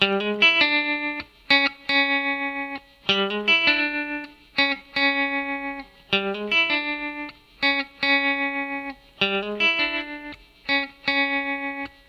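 Electric guitar lead lick in a song, with pulsing tremolo and some distortion, repeated short phrases with brief gaps, played alone and close.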